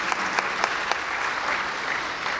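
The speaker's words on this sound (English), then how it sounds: "Let's give them another round of applause for those opening statements" An audience at a school board candidate forum applauds, a steady wash of clapping with a few sharper claps standing out, moderately distant and sustained.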